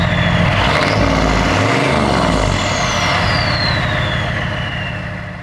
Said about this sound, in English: it's just got a simple resonator on it, so it's not droney or poppy or anything like that, but it's not really that quiet either.